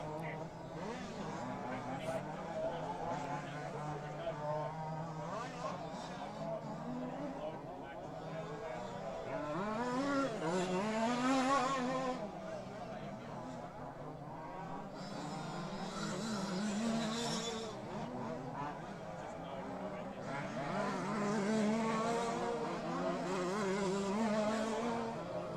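Large scale off-road RC cars race around a track at the 2017 King RC Australian Large Scale Offroad Titles, their engines whining and swelling as they pass, beneath continuous race commentary.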